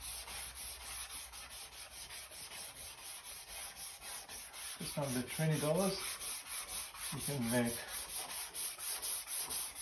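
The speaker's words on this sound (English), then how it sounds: "People are going to love sanding with this new system." A flexible sanding block rubs back and forth over a car's primed bodywork in steady, even strokes; someone speaks briefly partway through.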